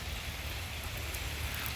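Rain falling outside a farmhouse set in a garden farm, a steady, even hiss that continues without break and without any voices.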